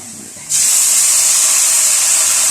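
A sudden loud hiss bursts up as water hits hot spices, including dried coriander powder, in a pan for mash dal, then keeps sizzling steadily and strongly after a quiet start.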